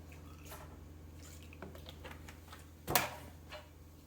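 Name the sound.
splash of milk poured over tilapia fish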